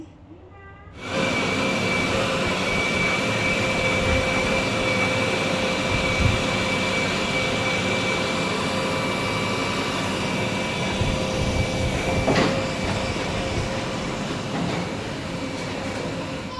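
A JCB excavator digs a pipeline trench down the middle of a narrow residential street, its diesel engine giving a loud, steady, continuous drone with a faint whine throughout and no voices.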